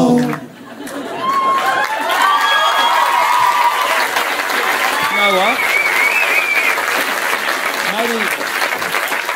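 An audience claps steadily at a live show, a broad, sustained wash of applause while voices talk and sing loudly over it.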